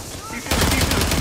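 Rapid automatic gunfire from a Call of Duty match bursts in loud and sustained halfway through, a dense rattling stream following a quieter stretch of game ambience.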